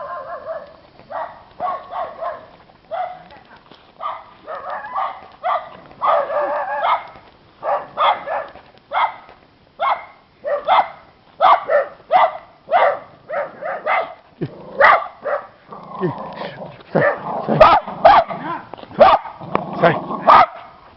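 A dog barks repeatedly in short, sharp bursts, loud and close, growing more frantic toward the end, with occasional yips and growls.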